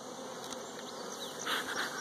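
Honey bees buzz around a hive split, a continuous close droning hum that swells slightly toward the end, with no voices.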